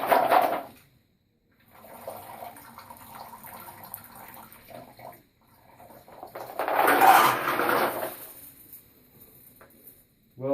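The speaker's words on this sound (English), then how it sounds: "I just want to dump out all the water, the dirty water, and then rinse it out with clean water." Dirty water from cleaning military 7.62x51mm brass is poured through a doubled-up window screen. A loud splashing gush is followed by a steadier trickle, then a second heavy pour after a brief pause.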